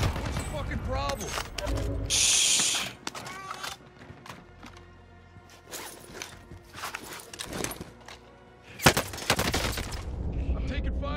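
Rapid bursts of video game gunfire crackle in volleys between quieter stretches, with a loud heavy blast near the end, over game ambience and occasional footsteps.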